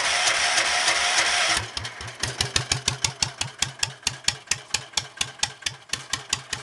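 A Cub Cadet 128 pulling tractor running on 100 octane cranks with a rough grinding whir, then catches and settles into a loud, steady, evenly pulsing idle close by.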